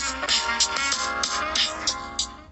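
Music plays through a Realme X smartphone speaker, thin and bright with little bass, with crisp percussive hits over a sustained melody.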